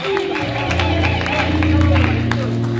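A church congregation applauds, sharp claps scattered over a sustained hum of crowd voices and held tones, with speech mixed in and a busy, reverberant room feel.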